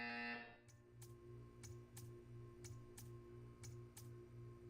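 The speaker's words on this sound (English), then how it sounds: "You will hear a buzzer." A short, bright electronic buzzer sounds once in the video game Portal 2, then gives way to a steady low hum punctuated by evenly spaced soft ticks.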